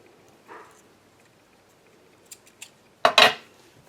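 Scissors snipping paper during a die-cut card-making session, with a couple of small soft snips and then a louder, crisp double cut near the end in a quiet room.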